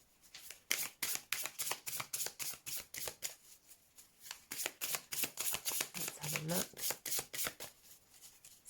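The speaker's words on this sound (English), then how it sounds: "Give these a good shuffle." Tarot cards being shuffled by hand in quick, crisp riffling bursts, close and fairly soft, with a brief pause midway and a few quiet spoken words.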